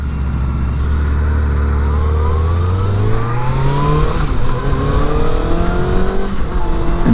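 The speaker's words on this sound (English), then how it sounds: "Get a quick acceleration in front of this vehicle here." A 2025 Kawasaki ZX-6R accelerates hard from close by. The engine pitch climbs steadily and loudly over about seven seconds, with a continuous rising roar and wind and road noise underneath.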